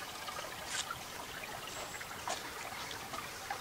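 Spring water trickles down a stone raceway beside an abandoned spring house, a steady faint babble of running water with a few brief splashy rises, no voices.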